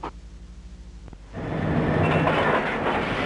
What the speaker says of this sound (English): the last one-third of our train, pulled by five mid-train helper units, arrives and links up to complete the train for movement over the hill